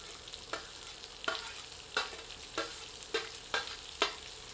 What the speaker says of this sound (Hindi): आंच को मध्यम कर लेते हैं और प्याज को अन्य मसालों में मिलाकर भूनते हैं